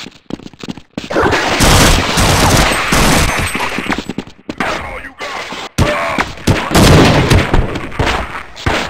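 Loud, close bursts of automatic gunfire in the Half-Life Uplink game, rapid volleys broken by short silent gaps, with heavier booming shots among them and a brief bit of talk.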